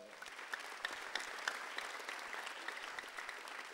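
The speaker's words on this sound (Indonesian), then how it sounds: "Tepuk tangan." A comedy show audience at a stand-up one-liner battle applauds in a faint, distant, steady wash of clapping with no voices over it.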